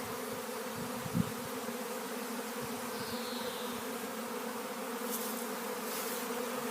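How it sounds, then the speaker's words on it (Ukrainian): A swarm of honeybees hums close by in a steady, layered drone, with individual bees buzzing past now and then and one brief bump. "тут рій конкретно"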